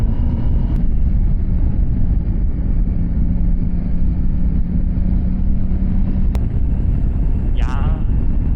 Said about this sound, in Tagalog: Ba't parang mas maganda yung tunog ng motor mo kaysa sa akin?